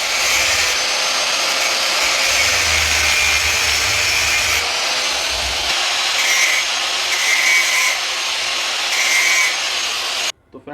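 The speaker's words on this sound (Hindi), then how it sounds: "चलिए फ्रेंड्स मैं इस वाले बोल्ट को काट देता हूँ।" A bolt is cut on an old tailor's iron under restoration, giving a continuous loud, harsh grinding or sawing noise that runs steadily for about ten seconds, with small surges, before stopping abruptly.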